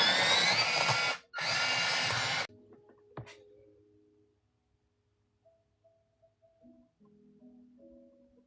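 A pencil being sharpened with a sharpener during a watercolor session gives two loud, close grinding bursts separated by a brief pause, followed by faint scattered clicks and handling noises.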